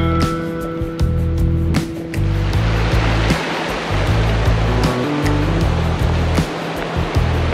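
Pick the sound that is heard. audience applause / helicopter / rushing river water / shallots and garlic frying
rushing river water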